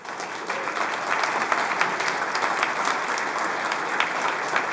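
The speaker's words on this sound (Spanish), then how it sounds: "Den un aplauso al Señor." Dense applause from a congregation at a Spanish-language church service, steady and moderately loud, building slightly at the start and holding as a continuous wash of clapping.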